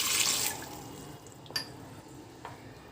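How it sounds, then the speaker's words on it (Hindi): A glass of water is poured into a pressure cooker holding drumsticks, a short close splashing pour at the start that quickly fades, followed by a couple of faint drips. "कुकर में ड्रम स्टिक डाल के और इसका अंदर 1 गिलास पानी डालेंगे"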